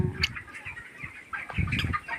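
Chickens on a poultry farm cluck in short, close bursts as they are fed, a few quick calls overlapping with faint rustling.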